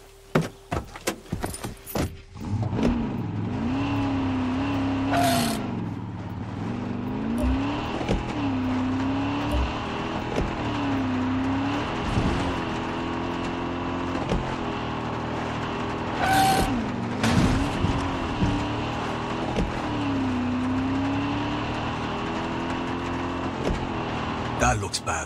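A vehicle in Far Cry 6 is driven with a steady engine drone that rises and falls as it revs, after door and key-like clicks at the start, with occasional sharp game effects over the top.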